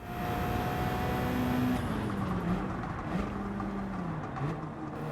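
A Gran Turismo 7 Gr.3 race car engine hums and revs up and down in smooth rising and falling swells, steady and moderately loud, with no voices.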